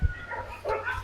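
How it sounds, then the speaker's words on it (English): Dogs bark and yip somewhere near a rural cemetery, short bursts rising over a steady outdoor background, moderately loud but not close. "those dogs get on my nerves"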